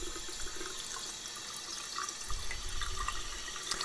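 Hot water tap running in a bathroom sink in the video game Yesterday, set in a Paris hotel: a steady broadband hiss of flowing water with a slightly heavier gush toward the end, close and alone, with no talk.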